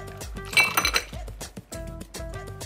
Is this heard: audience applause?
no